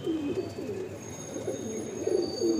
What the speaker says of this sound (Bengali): নর পায়রা